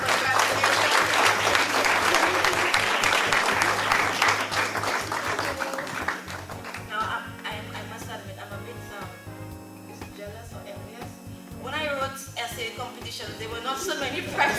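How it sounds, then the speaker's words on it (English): Applause from an essay awards ceremony audience swells loudly at first, then gives way to a voice talking over scattered clapping and soft background music, with a smaller burst of clapping near the end. "Round of applause"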